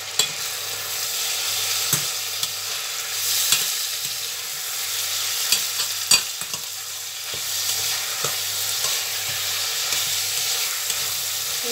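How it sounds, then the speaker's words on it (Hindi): Onion, tomatoes and spices stir-fried in a pan for a bhindi pyaz dish, giving a steady, close frying sizzle broken by repeated spoon scrapes and knocks, with no talking. "अब इनको भूनना है अच्छी तरह।"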